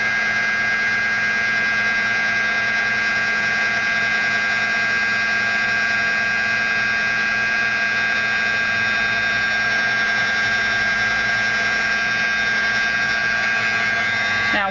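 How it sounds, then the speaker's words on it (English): Steady whirring drone of a heat gun heating a scrap-built card embellishment, constant and fairly loud from start to finish with no talking. "I've got my heat tool, and I'm going to go ahead and heat this up"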